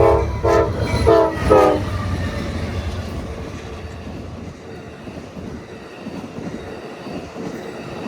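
Amtrak GE P42DC locomotive No. 164 in Phase 4 Heritage livery sounds a shave-and-a-haircut horn pattern of short, loud blasts near a crossing in Springville, Utah, followed by rumbling, rolling rail noise as the train passes.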